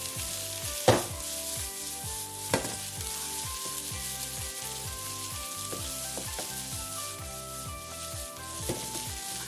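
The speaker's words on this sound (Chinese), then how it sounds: "先把我们的饭先炒均匀，" Rice and salmon being stir-fried in a wok, with steady close sizzling and crackling throughout and repeated scraping, clanking strokes of a spatula against the metal.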